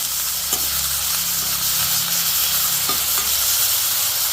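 Green chillies, sliced onion and curry leaves sizzle in hot oil for a potato side dish, a loud continuous hiss broken by a few scraping stirs and light spatters.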